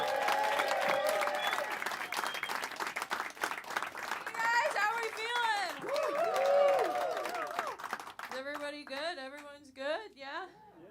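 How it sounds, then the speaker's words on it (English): Comedy club audience in Chicago applauds and cheers a comic taking the stage, a dense wash of clapping with whoops, while a host's voice talks over it and a few shouts stand out near the end. "Start clapping right now for Olivia Carter, everybody."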